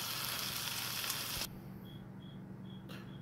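Steak with onions and mushrooms sizzling in a hot pan, a loud dense sizzle that cuts off abruptly halfway, leaving a quiet hiss with faint intermittent high beeps.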